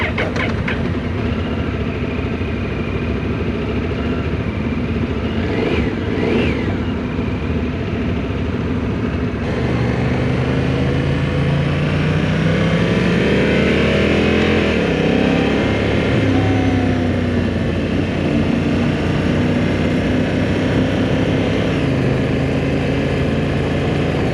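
A 2024 Honda motorcycle with a DCT automatic transmission, heard while riding as a continuous loud engine drone that rises in pitch while accelerating and shifts through gears, with steady wind and road noise throughout.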